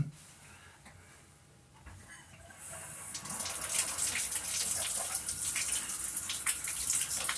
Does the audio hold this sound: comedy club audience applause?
no